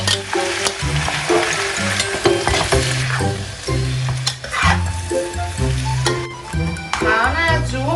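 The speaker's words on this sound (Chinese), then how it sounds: "马上爆香先。" Aromatics stir-fry in hot oil in a home kitchen wok, giving a loud, continuous sizzle with scraping and light clinks of stirring, layered over a steady tonal background.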